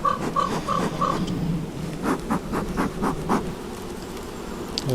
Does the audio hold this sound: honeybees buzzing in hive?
yes